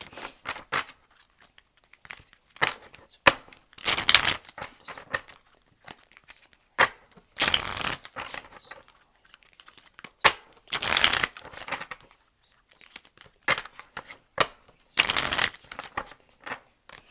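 Tarot cards are shuffled and cut in separate bursts, crisp riffles and snaps alternating with quiet pauses, close and fairly loud, with no voices.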